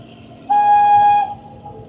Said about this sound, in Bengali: ছেড়ে দিল আমাদের টয় ট্রেন, একেবারে সঠিক সময়ে ট্রেন ছাড়লো